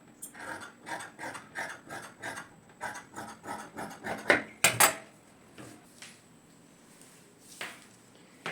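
Scissors cut through blouse fabric in a run of rhythmic, crunchy snips about twice a second. The snipping then thins to a few scattered cuts and handling sounds, close up and with no talking.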